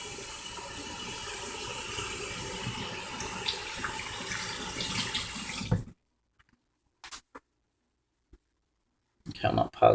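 Hands washed with antibacterial soap under a running sink tap: a steady rush of water for several seconds that then stops abruptly, followed by near silence with a few faint clicks and handling noises.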